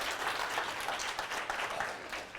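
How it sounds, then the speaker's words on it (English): An audience at an email marketing conference applauds, a dense, continuous patter of many hands clapping at moderate distance with no pauses. "Round of applause here for everybody."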